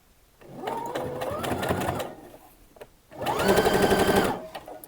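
A domestic sewing machine stitches a seam on a summer dress in two bursts, the first roughly a second and a half long and the second louder and steadier, with a brief pause between them and no talking.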